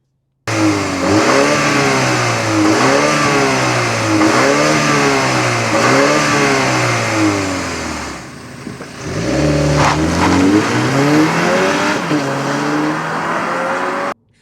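A 2025 Mini Cooper S launches hard off the line in go-kart mode, its engine revving loud and close, climbing through repeated surges with a brief dip at a gear change before pulling strongly again.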